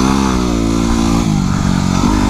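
A Yamaha WR250R dual-sport motorcycle drones loudly and steadily while being ridden, its engine note holding a mostly even pitch with a slight dip and recovery midway and no talking.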